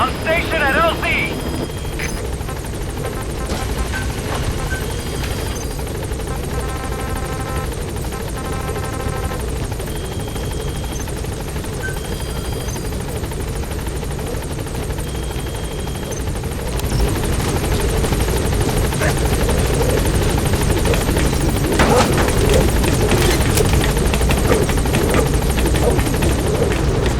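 A B-Quad helicopter in Metal Gear Solid 5 arrives at a landing zone with a loud, continuous rotor drone that grows stronger toward the end, under game radio chatter and beeps.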